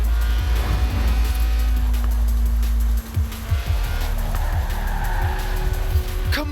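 Lotus Elise Sport 190 with a 1.8-litre engine drifting sideways in Forza Horizon 4: steady engine drone with tire squeal layered over it, engine note dropping briefly near the midpoint before resuming, game music faintly underneath.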